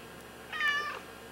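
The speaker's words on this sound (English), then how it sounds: "Kitty's talking." A single short cat meow, clear and fairly close, rising and falling over faint room hum in a home setting.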